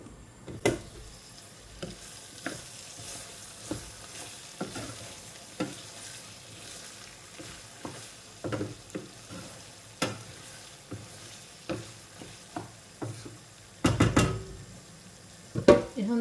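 Beef tripe fries over medium heat while being stirred, with repeated scraping and knocking strokes against the pan over a steady low sizzle, and a cluster of louder clatters near the end.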